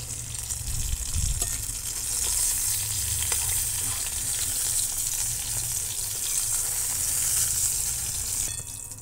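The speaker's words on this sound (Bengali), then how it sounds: "এবার দেখুন ওই তেলেই আমি আলুগুলো ভেজে নিচ্ছি।" Potatoes sizzle and crackle loudly in hot mustard oil in a pan, a dense continuous frying hiss with a brief stirring clatter near the start, close and steady throughout.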